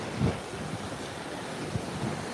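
Surf washing ashore at the beach beside Deerfield Beach International Pier in Florida on a warm evening, a steady broad roar of waves with wind buffeting the microphone, no voices.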